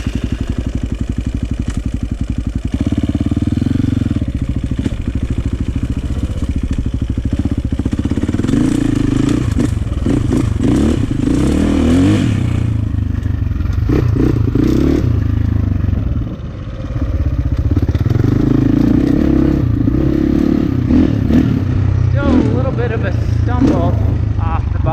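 A KTM 450 EXC dirt bike, running low on fuel after sitting six years, chugs and revs unevenly at close range with a bogging, stumbling note. Someone talks over the engine throughout.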